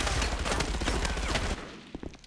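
Automatic weapon fire in the multiplayer shooter game Enemy Front, a loud rapid burst of shots that cuts off abruptly, followed by a few scattered fainter impacts.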